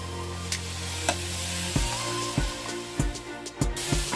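Meatballs fry in a pan, giving a steady close sizzle broken by several sharp clacks and scrapes as they are moved around, with no talking.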